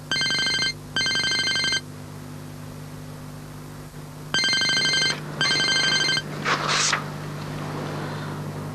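A telephone rings in four short double bursts, two at the start and two after a pause of several seconds, with a low steady hum underneath and a brief rustle near the end.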